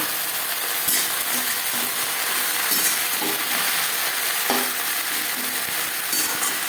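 Sliced okra stir-fried in a pan with a little oil and a tempering of cumin and fried dried chilli: a steady close sizzle with scraping spatula strokes at irregular intervals, no talking.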